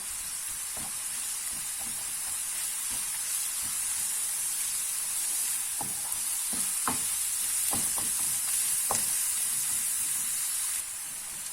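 Onion and zucchini sauté in a hot pan with a steady, bright sizzle, while a spoon scrapes and stirs now and then, each stroke a soft clack.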